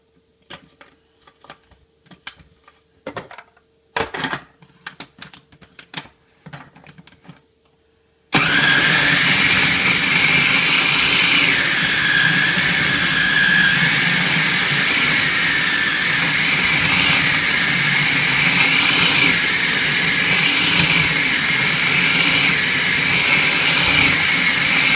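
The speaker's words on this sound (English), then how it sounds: "Right now the nuts are just getting chopped up" Food processor chopping macadamia nuts with onion: a few faint clicks, then the motor kicks in with a loud, steady whirring roar that runs on unbroken, the blades grinding the contents.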